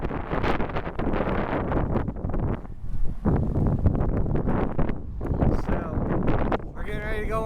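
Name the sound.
strong wind blowing on the microphone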